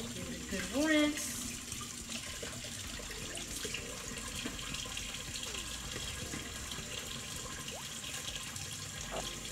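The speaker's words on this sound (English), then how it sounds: "Give it a good rinse." Produce rinsed under a running kitchen tap, a steady splashing water stream filling the scene at moderate closeness, with a brief higher tone near the start and quiet background movement.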